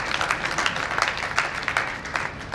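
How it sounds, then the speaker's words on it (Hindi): Loud, dense applause from a crowd honouring farmers seated on stage at a farmers' protest gathering, steady clapping throughout with scattered sharper claps rising above the wash. "एक बार मंच पर बैठे सभी किसानों के लिए, भाइयों के लिए बहुत जोरदार तालियां"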